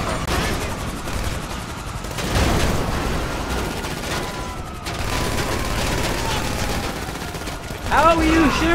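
Bursts of gunfire clatter through a Grand Theft Auto V shootout, fairly loud and sustained in waves, with engine and game noise underneath and a brief sharp effect near the end.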